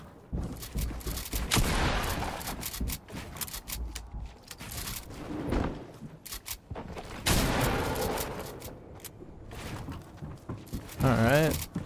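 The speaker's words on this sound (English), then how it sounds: "I just wanted to test out like to see the shots there from tap firing with it" Combat assault rifle tap-fired in a video game: short, separated bursts of shots with gaps between them, mixed with game sound effects and a voice talking.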